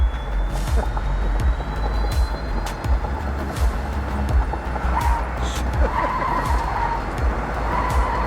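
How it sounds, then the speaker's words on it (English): AI robot-driven cars race around a course at about 45 miles per hour, giving a continuous rumble of motors and tyres with sharp squeals and scrapes throughout and some faint background voices. "These AI robots crank through the course at 45 miles per hour"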